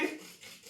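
A spoon scraping and rubbing through flour in a mixing bowl while a yogurt cake batter is made, a brief soft gritty rasp that fades quickly, close and quiet.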